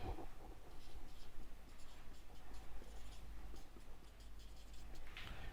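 A pen or chalk writes on a board during a math lesson, with continuous scratchy strokes and small taps at close range and a faint voice in the background.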